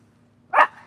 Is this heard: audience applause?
no